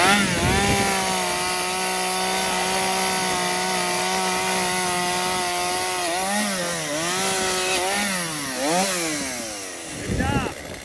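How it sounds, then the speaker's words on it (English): A chainsaw runs steadily while cutting brush around a goat pen on a homestead, its engine droning close and loud, then revving up and down in rising and falling surges near the end. "And but another chainsaw to clean up with."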